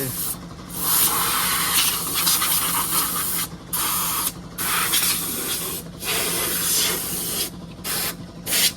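Pressure washer blasting water in bursts, loud hissing spray broken by several short pauses, close and continuous otherwise, with no talking.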